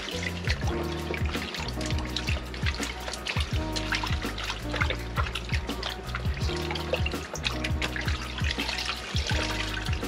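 A motocross air filter is rinsed in clean water, with continuous splashing, dribbling and sloshing as it is dunked and squeezed in a basin, close and busy throughout with rhythmic bursts, and no talking.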